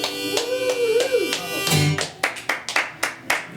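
Live crowd at a showcase cheering and then clapping in sharp, evenly spaced bursts that grow clearer toward the end, with a voice audible early on.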